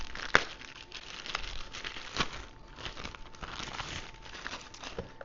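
Night vision goggle packaging is opened with close, continuous plastic crinkling and rustling, one sharp tearing snap near the start and another crackle midway, at a steady low level with no talking.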